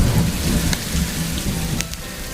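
Thunderstorm effect from a stage play of Dracula: steady heavy rain hiss with rolling thunder rumble, loud and continuous, no voices.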